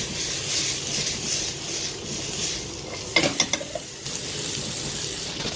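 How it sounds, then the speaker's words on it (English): Onions being stirred in a pan with a pinch of salt and mixed herbs for a cottage pie: a soft, steady sizzle with a cluster of scraping, clicking utensil strokes around the middle, close and fairly quiet, with no talk. "and then just give that a stir in now"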